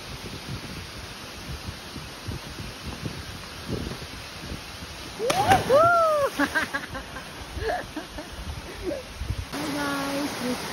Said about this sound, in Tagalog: this is the Lokang Falls in City here